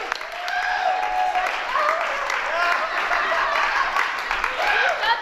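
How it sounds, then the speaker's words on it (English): Audience applause for comedian Charlie Gray at a benefit show at New Mountain, a steady dense wash of clapping filling the room with scattered voices and whoops mixed in throughout. "Everybody clap your hands for Charlie Gray."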